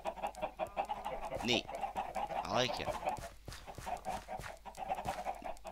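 Minecraft chickens clucking and squawking inside a chicken barn, repeated short calls at close range, mixed with someone talking over them.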